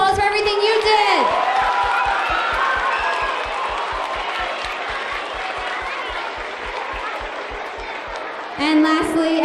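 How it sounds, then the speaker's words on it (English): Students applaud and cheer at a school thank-you event, with dense, sustained clapping and crowd noise that fades slightly over several seconds, framed by brief speech at the start and end. "give yourselves a really big round of applause for everything you did"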